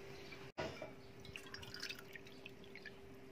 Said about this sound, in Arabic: دابا غنزيد عليه ثلاثة الكيسان ديال الماء،